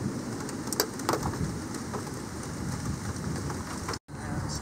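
Heavy rain from a tornadic supercell thunderstorm pours steadily in a dense, loud hiss, with occasional sharper patters and a brief cut near the end.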